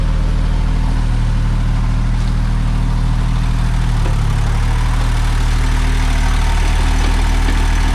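A heavy machine engine, apparently on equipment of around three tons with hydraulics, idles loudly with a steady low rumble and hum that persists throughout, with a slight shift partway through.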